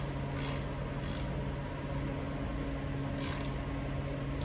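A ratchet clicks in three short bursts while tightening the carrier bearing bolts on a John Deere 1025R compact tractor, over a steady low background hum.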